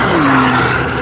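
A race car sweeps past on the Nelson Ledges track during a final lap of One Lap of America, a steady engine roar with a falling pitch as it passes, loud and close with no voices.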